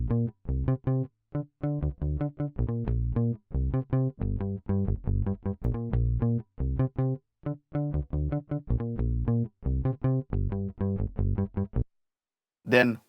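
Chorus variation of a synthesized bass line, a busy run of short, punchy staccato notes in a choppy syncopated rhythm, loud and close, with a brief burst of another sound at the very end.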